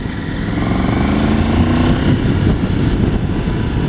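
A Triumph Tiger 900 GT Pro, a light road trail motorcycle with an 888 cc engine, drones steadily and loudly while being ridden, its engine note holding a continuous hum over rushing wind with no talking.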